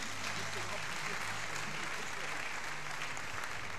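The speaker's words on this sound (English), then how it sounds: "Clap your hands right now." Crowd clapping at a revival tent meeting, a steady, dense wash of hands with a low hum underneath and faint voices mixed in.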